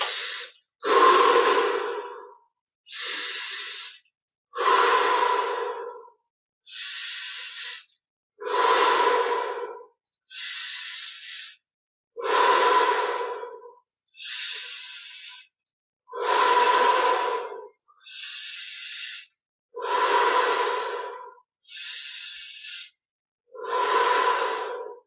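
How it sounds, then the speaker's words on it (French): Slow, deep breathing during a guided meditation: a dozen or so full inhales and exhales in a steady rhythm, close and clear, with silence between breaths and no talking. "Et là, on va prendre 20 respirations profondes."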